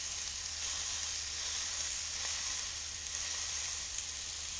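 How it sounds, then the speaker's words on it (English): A muntjac venison loin rubbed with Cajun spices sears undisturbed in a hot pan, giving a steady, even sizzling hiss that holds at one level throughout. "all I'm doing is just searing it and giving it a little bit of colour"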